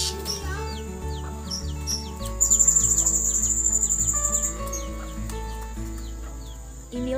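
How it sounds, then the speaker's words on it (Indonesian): Blue-crowned hanging parrots, newly acquired serindit birds, chirp with many quick, high twittering calls and a brighter, steady trill over a busy, low background hum, close and fairly loud throughout. "Inilah burung serindit baru yang kita dapat minggu kemarin ye"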